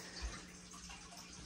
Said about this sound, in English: once this water finishes running, and we'll be done